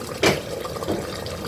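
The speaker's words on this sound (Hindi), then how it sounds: "इसमें जो है पानी डाल के, तकरीबन 1 गिलास पानी में डालूँगी" Water poured from a glass into mutton cooking in oil for biryani, a short splashing burst near the start followed by a faint liquid trickle.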